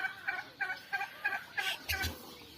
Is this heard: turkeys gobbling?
yes